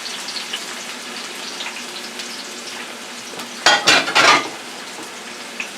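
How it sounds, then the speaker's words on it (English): Onions and red peppers dropped into a hot pan for curry chicken and rice, a quiet background hiss that suddenly bursts into a loud, close sizzle near the end, without talking. "I'm going to put the rest of the onions and red peppers in."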